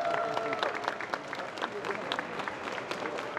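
Factory workers and managers applauding a special gold-coloured jubilee bicycle rolling off a Baltic Vairas assembly line, dense sustained clapping from a sizeable indoor group, fairly loud and continuous throughout.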